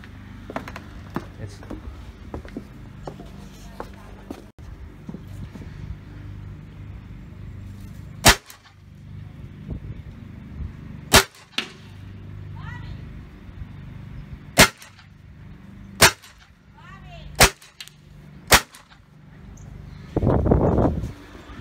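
A Tiberius 8.1 paintball marker fires marbles into a metal burn barrel, giving several sharp, loud cracks at irregular intervals, with quieter mechanical handling noises between shots and a rough burst of noise near the end.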